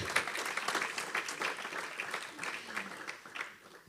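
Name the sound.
audience applause after a presentation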